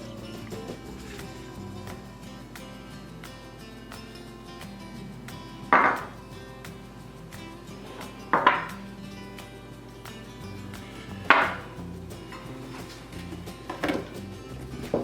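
Kitchen sounds come from a cinnamon mixture for apple pie being prepared in a bowl: faint scraping and handling under a quiet room hum, punctuated by four sharp clinks and knocks spaced a few seconds apart.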